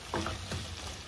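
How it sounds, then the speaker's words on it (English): Onion cooks in grease in a home kitchen pan, giving a soft, quiet sizzle with a couple of brief stirring scrapes over a bit more than a second. "we're gonna cook the onion in here"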